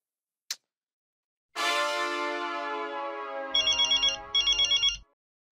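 Telephone ringtone in a Hindi sitcom household: a short click, then a loud sustained melodic ring with a strong harmonic tone, followed by pulsing repeated beeps near the end, with no talking.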